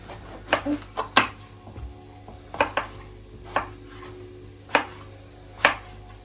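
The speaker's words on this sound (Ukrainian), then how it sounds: "Тепер підготуємо наші баклажани. Вони вже помиті. І нарізаємо так, вони так досить дрібно" Knife chops washed eggplant into small pieces on a cutting board, a series of sharp, close knocks in uneven bursts with short pauses between.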